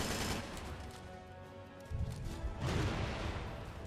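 Gunfire blasts at a boss in Headhunter Redux, with rapid, rumbling shots and explosive bursts that swell in two louder waves over a dense game soundscape.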